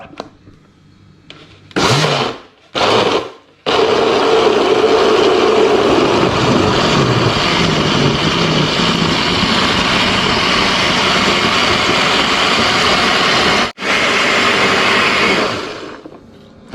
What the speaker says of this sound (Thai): ปั่นน้ำจิ้มให้ได้ก่อน ให้ละเอียดเลยนะครับ